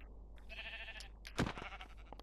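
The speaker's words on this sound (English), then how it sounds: "there are some sheep here" Sheep in the Minecraft video game bleat in a short wavering call, followed by a louder, sharper game sound and further brief bleats, all close and clear with no talking.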